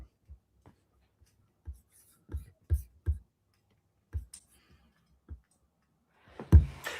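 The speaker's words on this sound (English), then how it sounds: "there's a lot more like loud typing and desk scraping coming through than there has been on previous sessions" Loud typing clicks and desk scraping picked up through a microphone, sparse sharp taps spread across the stretch with a heavier scraping thump near the end, no talk over them.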